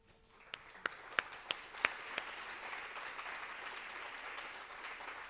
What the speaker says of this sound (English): Get a well-deserved round of applause